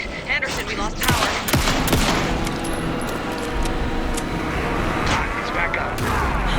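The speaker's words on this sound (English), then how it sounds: "Anderson, pin him down with gunfire for me to get the light on him." Rapid gunfire in the survival-horror video game Alan Wake 2, dense overlapping bursts of shots cracking over a noisy game soundscape, loudest in the first two seconds, with voices mixed in.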